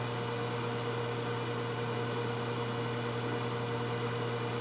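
A microwave oven hums steadily while potato chips turn on the glass carousel, a quiet, even electrical drone with a low mains buzz, continuous and unbroken, heard alone without any talk.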